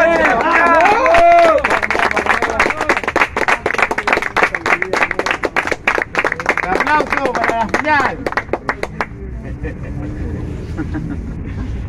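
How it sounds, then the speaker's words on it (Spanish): A crowd applauds and cheers at the final of a freestyle rap battle, with loud dense clapping and shouting over about ten seconds before it fades to a quieter murmur. "¡Aplauso para la final!"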